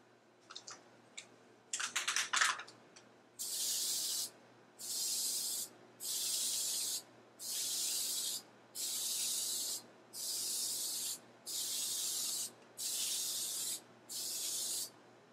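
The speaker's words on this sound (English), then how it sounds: "we can spray one more pass of the step 2" Spray bursts of wood stain hiss onto a wooden play table in a steady series, about ten short even blasts with brief pauses between, preceded by a few quick rattling shakes of the can.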